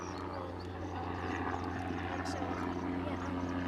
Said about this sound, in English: I'll see if I get this helicopter that's coming overhead